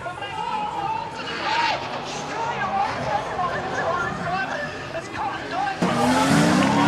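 Drift cars at the Three Sisters circuit sliding through a corner, sustained tire squeal and engine roar with rising screeches, loud and close, under a commentator's excited talk.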